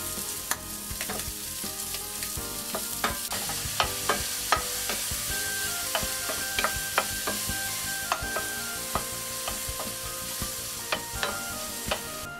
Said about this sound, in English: Once the bacon cubes become crispy, add the mushrooms. Stir fry till the mushroom become tender.